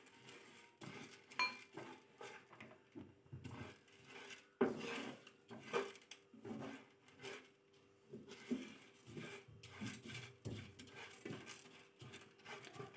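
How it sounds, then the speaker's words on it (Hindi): Melon seeds, magaz, lightly frying in a pan for homemade desi ghee panjiri, with soft scraping, stirring and faint clinks of a utensil against the pan, quiet and close, coming in irregular bursts. "अब मैं इसमें डालती हूँ 4 मगज़, इसको भी हल्का सा फ्राई कर लेना है।"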